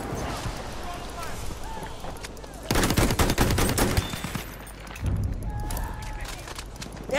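Rapid gunfire in Battlefield 1, with dense bursts of automatic shots in a loud middle stretch and scattered single cracks around it, heard under game voices and chatter.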